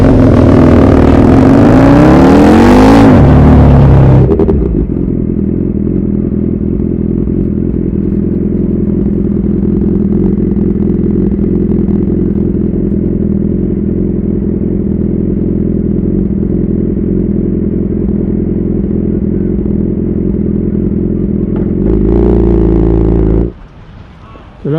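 A car pulls away and accelerates, its engine a steady, close, continuous drone that holds for about twenty seconds before a brief louder burst near the end.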